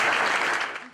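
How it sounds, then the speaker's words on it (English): A studio audience bursts into loud, dense applause for a guest director on a Brisbane TV show, sustained clapping that tapers slightly near the end. "can we give Alistair an incredible applause"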